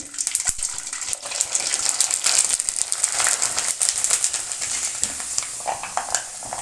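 Rice papad (happala) fries in plenty of hot oil, giving a busy, continuous sizzle with sharp crackles and pops that rise and fall as it puffs up.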